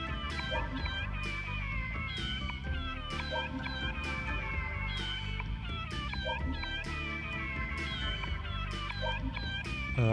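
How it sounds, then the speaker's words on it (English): Cat meows repeat over and over inside Persona 2: Eternal Punishment gameplay, loud and steady, layered over game music with many stacked tones and a dense low backing. "you are being subjected to the cat noises over and over again"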